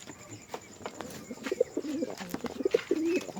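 Pigeon cooing close by during a check on its eggs, several soft throaty coos in short bursts over faint background rustling.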